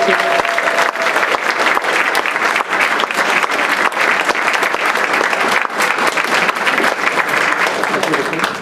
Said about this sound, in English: How about one more round of applause for all of our recipients?